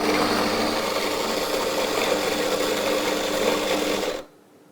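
A Gevi 4-in-1 smart coffee maker grinds 10 g of coffee beans with a loud, steady whirring buzz that holds evenly for about four seconds, then cuts off abruptly into near silence.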